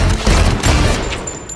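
Dense burst of gunfire from a spy comedy movie trailer, a loud, brief rattling barrage of overlapping shots with booming low end.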